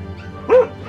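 A puppy gives a single short, high yelp over a low steady background hum, close and moderately loud.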